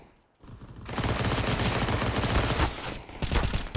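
Rapid automatic gunfire rattles in Counter-Strike on the Anubis map during an ESL Challenger match, a dense loud burst of shots after a brief quiet start, dipping for a moment and then resuming.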